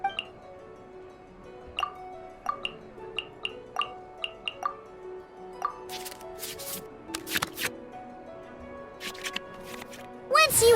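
Digital card sounds from a trading card game play as cards are shuffled back into the draw pile: a run of crisp, quick clicks and chimes, then brief whooshing swipes and a louder burst at the end.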